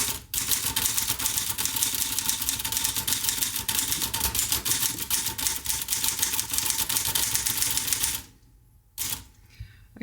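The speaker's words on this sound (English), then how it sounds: "So if we just do a little bit of typing," An Olivetti Lettera 22 typewriter is typed on at close range, giving a fast, steady run of sharp key clacks that stops near the end, followed by a brief pause and a couple of final strikes.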